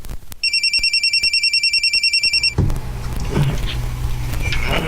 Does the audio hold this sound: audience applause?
no